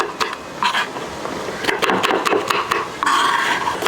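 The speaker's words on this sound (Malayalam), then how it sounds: "പരിപ്പിന് ആവശ്യമായിട്ടുള്ള പച്ചമുളകും ചെറിയ ഉള്ളിയും കൂടി നമുക്ക് അരിഞ്ഞെടുക്കാം" Green chillies and shallots are chopped on a board with a knife, producing a series of sharp, irregular tapping cuts, close and fairly loud, with no talk.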